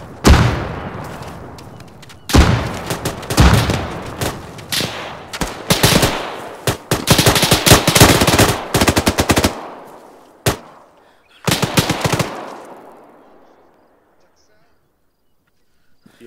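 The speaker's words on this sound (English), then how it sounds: "We're taking some heavy fire from our southwest" Heavy automatic gunfire and rifle bursts rattle loudly in an Arma 3 military simulation battle, with dense rapid volleys in clusters and a few isolated shots before the firing fades out.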